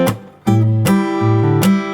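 Two A-shape chords from a tune are strummed on guitar with four bright, ringing strokes in a moderate rhythm, close and clear with no voices.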